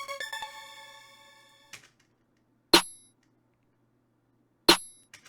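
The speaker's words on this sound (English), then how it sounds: "There's actually 2 snares and a clap." Layered drum machine hits, two snares stacked with a clap, crack out sharply and alone, two isolated bright strikes spaced about two seconds apart after a fading tonal tail.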